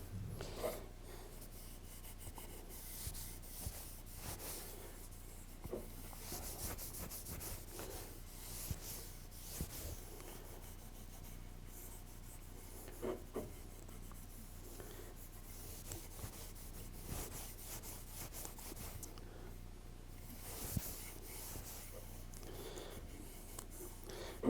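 A mopping rag rubs wax onto the surface of a 3D object in soft, close, irregular scrubbing strokes, quiet swishes with brief louder scuffs, no voices.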